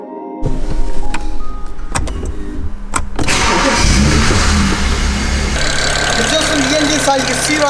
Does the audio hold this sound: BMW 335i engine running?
yes